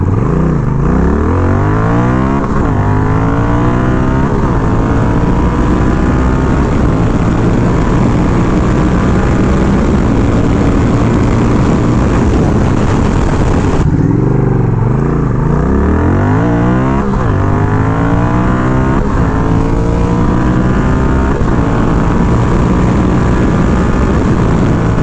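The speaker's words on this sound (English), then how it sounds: "we did a 0 to 100 run and a quarter-mile run on the Rebel 1100" Honda Rebel 1100 cruiser motorcycle on 0-100 mph and quarter-mile runs, loud engine climbing through repeated rising revs with brief shift dips, then a second full acceleration pass after a break, close and dominant.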